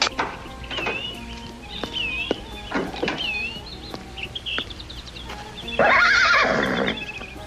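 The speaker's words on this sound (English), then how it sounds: "Looks like a fine horse." A horse neighs loudly in a long, shrill whinny near the end, after scattered clip-clop hoofbeats and faint birdsong in an outdoor Western setting.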